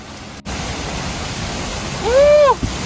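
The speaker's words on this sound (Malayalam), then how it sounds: "ശബ്ദം കൂടിക്കൂടി വരുന്നുണ്ട്. അതേ കാണുന്ന വാട്ടർഫോൾ." Powerful waterfall at Vattavada, a steady loud broadband rush of water, with a brief dropout and a short whistling or chirping tone rising over it near the end.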